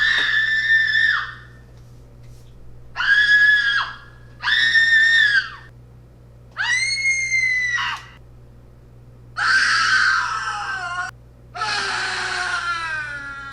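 Six separate screams from a Halloween sound-effects collection, each about a second long with short silences between, shrill and loud, several rising into wavering shrieks; no talking.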